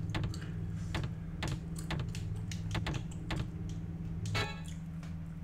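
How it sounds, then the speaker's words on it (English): Fingers type on a computer keyboard in quick irregular bursts of crisp, close clicks, with a few louder key strikes, over a steady low hum. "The satisfaction of this keyboard is so insane."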